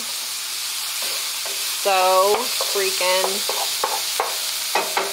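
A restaurant meal sizzles and crackles steadily on a hot pan, with someone speaking over it and a few sharp clinks and taps from utensils near the end.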